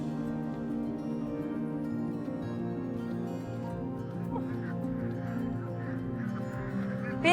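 A flock of farm ducks being herded keeps up a dense chorus of honking quacks, loud and near, running continuously with a sharper call right at the end.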